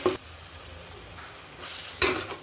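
Meat curry masala with chilli powder sizzling in a pan while a spoon stirs it, two short scraping strokes at the start and near the end over a soft, steady frying hiss.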